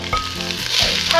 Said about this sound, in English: Ooh, nice sizzle.